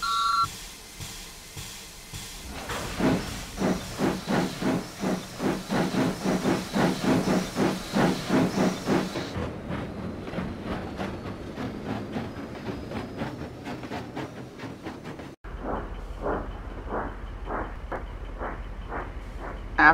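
A steam engine starting off on a railway gives a series of rhythmic hissing puffs, strong at first, then a pause and a softer, quicker run of chuffs with a low rumble beneath.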